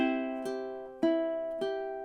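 A ukulele plays the final measure of the Hawaiian song "Loke Lani" with three clear strummed chords about half a second apart. The last chord, ending on C, is left to ring and fade.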